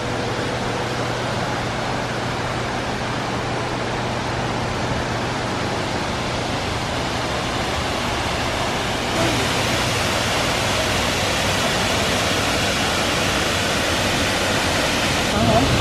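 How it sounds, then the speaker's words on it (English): A waterfall in British Columbia with very clean water pours in a steady, dense roar. The broadband rush holds constant for about sixteen seconds, grows slightly louder partway through, and no voices are heard. "we're gonna go see a waterfall"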